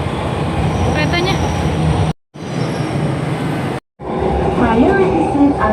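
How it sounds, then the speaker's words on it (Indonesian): MRT metro train in Jakarta arriving at a station, a steady loud rumble with a brief squeal, cut by two short silent gaps, with people talking over it. "keretanya langsung datang."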